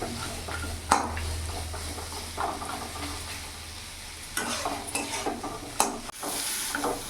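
A rohu fish head fries with spices in a pan: a low, soft sizzle runs under intermittent scraping and stirring clatter of a spoon against the pan.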